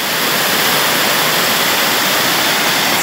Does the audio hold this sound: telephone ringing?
no